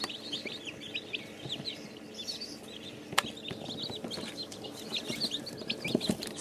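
A flock of chickens kept in a box or pen clucks and cheeps softly and continuously, with many overlapping small chirping calls and an occasional tap or knock nearby.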